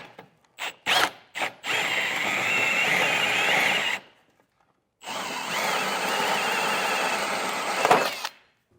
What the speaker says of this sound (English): I'm going to use a hole saw to create that opening.